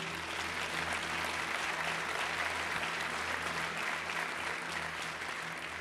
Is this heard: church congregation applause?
yes